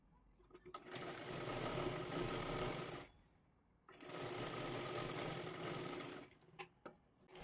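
A sewing machine stitches a seam on a size 38 princess-cut blouse in two sustained, fairly quiet runs with a short pause between them, followed by a few light taps and clicks.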